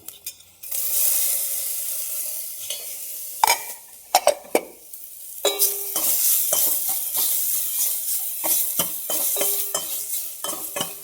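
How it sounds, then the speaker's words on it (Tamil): Garlic hits hot oil in a pan for rasam, setting off a sudden close sizzle, followed by clinks and scrapes of a spoon stirring against the pan over continuous frying crackle. "இப்போ வந்து நம்ம பூண்டை கொட்டிக்குவோம்"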